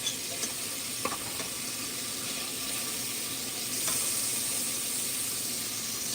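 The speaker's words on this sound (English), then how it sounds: "I'm gonna put the lima beans in there with some garlic." Lima beans and minced garlic sizzle in hot pork fat, a steady broadband frying hiss with a few small pops and scrapes, close and alone without talk.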